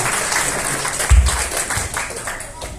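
Room of people at a Karang Taruna youth organisation work meeting in Batam clapping together, a short dense burst of applause with a low thump near the middle, fairly loud and close.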